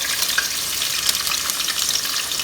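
Onion frying in hot oil as the base gravy for a country chicken dum biryani, a dense, steady crackling sizzle close up, with no voices over it.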